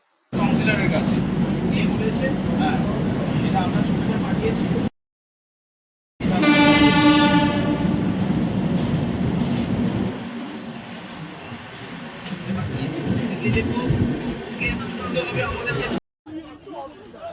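Shatabdi Express train running over the Mahanadi river bridge at night, a steady loud rumble of wheels with a brief squeal, the tone changing on the bridge span, someone speaking over parts of it.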